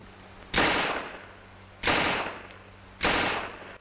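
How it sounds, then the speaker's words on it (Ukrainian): Three loud bursts of automatic rifle fire in a game, evenly spaced about a second apart, each trailing off into a short echo. "Автомат"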